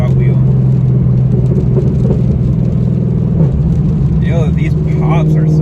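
A cam-swapped fifth-generation Chevrolet Camaro runs hard on a dyno with a loud, sustained engine roar and crackling exhaust pops, with voices talking over it.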